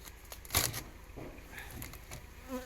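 Honey bees crowding fully over the frames of a large hive colony, a soft, steady buzzing hum with faint rustling, close but quiet.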